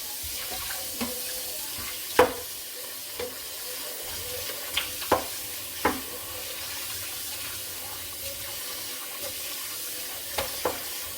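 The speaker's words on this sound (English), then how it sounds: "Meanwhile, I'm going to just wash the pot out, or the pan out rather." A cooking pan washed out under a running kitchen tap, water hissing steadily into the sink while the pan knocks and clanks against it in scattered bumps, nearby, no talking.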